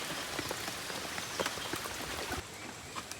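Steady rain patters on a surface with scattered louder drops, a continuous close wash of noise that softens slightly near the end.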